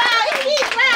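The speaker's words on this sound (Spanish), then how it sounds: "Un aplauso para mi hermana." Applause from a family gathering at a celebration, clapping mixed with cheering voices and children, loud and close throughout.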